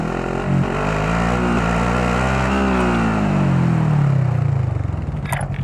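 Car engine driving in Call of Duty Warzone: a loud, close engine drones steadily, its pitch sliding and rising as the vehicle accelerates, then dropping off toward the end with a faint click.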